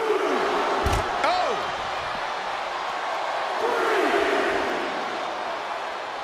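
Wrestling arena crowd roaring at a Raw match, a dense, loud sustained roar with a sharp slam-like impact and rising shouts near the start, swelling again midway.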